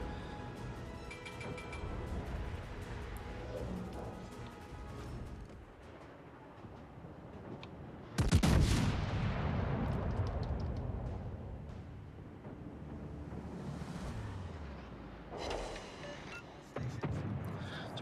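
Heavy naval guns boom out in a salvo during a warship battle game, a sudden loud blast near the middle of the clip with a long rumbling decay, framed by steady engine and battle noise.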